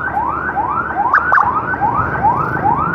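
Siren of a new Daihatsu Luxio ambulance on escort, a loud close rising wail repeating about every half second, steady and continuous over road and engine noise.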